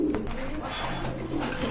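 A pair of Giribaz pigeons coo steadily at close range, low throaty murmurs rolling on without a break and no voices.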